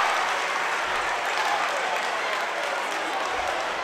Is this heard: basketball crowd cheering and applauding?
yes